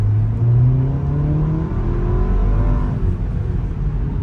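A 2023 Porsche Macan SUV accelerates hard in sport mode, its engine note rising steadily in pitch as it pulls through the rev range, loud and continuous from inside the car.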